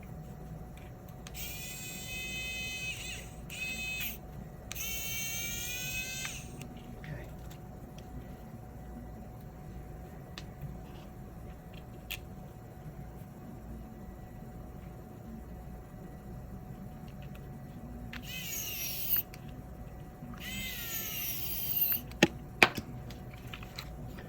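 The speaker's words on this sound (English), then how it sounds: "So you want to use the electric screwdriver to start the screw in" An electric screwdriver drives screws into a Tamiya Mini 4WD Mach Frame chassis in two short whirring bursts near the start, then two more near the end, with quiet handling noise between them.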